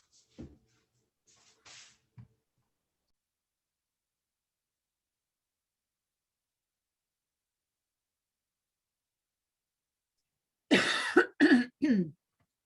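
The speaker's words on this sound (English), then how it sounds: "I opened up the sound by coughing into your ears" A couple of faint, short sounds early on, then a long silence before three loud, close coughs in quick succession.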